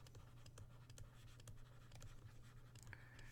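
Pen or pencil scratching across paper while a fraction is written out by hand, a soft steady scrape with small taps, faint and close over a constant low electrical hum.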